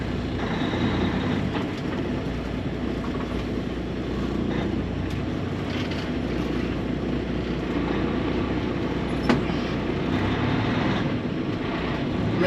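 Steady engine rumble from a 2023 Kenworth W900L truck slowly backing up a trailer to clear a tree, a broad continuous drone with a brief knock near the end and no talking.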